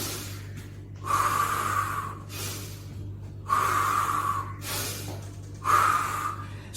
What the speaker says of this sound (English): You start breathing deeply